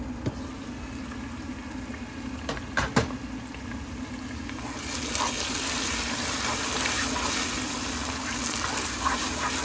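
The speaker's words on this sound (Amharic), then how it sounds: "ውሃ አከልሰዋለሁ" Water is poured into an Ethiopian fish stew frying in oil in a pot, giving a soft gushing and bubbling hiss. A few sharp clicks come early on, and the sizzle grows brighter and steadier partway through, with no voices.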